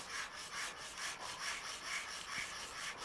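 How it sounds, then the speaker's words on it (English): A rusty car panel is sanded in the Car Dealer Simulator video game, making rhythmic back-and-forth rubbing strokes, about three per second, steady and close with no talking. "you obviously don't need to sand all of the panels. We can just sand where the rust is."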